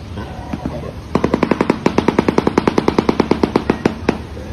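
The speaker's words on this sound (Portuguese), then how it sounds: "Balaeniceps rex, popularmente conhecido como bico de sapato." A shoebill (Balaeniceps rex) gives a rapid, loud series of sharp clattering bursts, like machine-gun fire, running steadily for several seconds after a brief softer lead-in.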